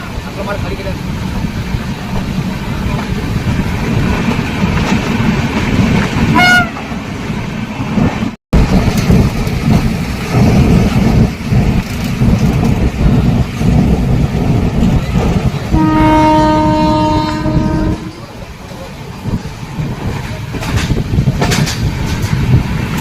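Madgaon Janshatabdi Express on the Konkan Railway running in heavy rain, a steady loud broadband rumble of wheels and rain throughout, with a horn-like tonal blast near the middle and a brief dropout before it.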